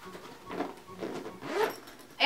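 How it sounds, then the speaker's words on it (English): A Fjallraven Kanken backpack stuffed with odds and ends is zipped shut in a few quick, close, scratchy pulls, ending with a brighter final tug. "And we'll zip it all up."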